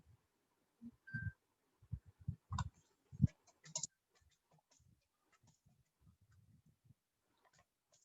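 Keyboard typing into an online chat box during a French class, heard as a scattered series of soft, close clicks and taps, bunched together early and then thinning out into faint, sparse ticks.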